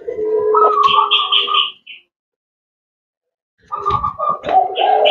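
Rhythmic cooing and trilling calls of a zebra dove, close and loud, in two bursts separated by a couple of seconds of silence.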